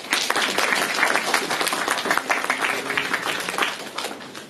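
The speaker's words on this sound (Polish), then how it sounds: "Brawa." Steady, dense audience applause after a lecture at a popular-science archaeology conference, loud and sustained throughout with many hands clapping together.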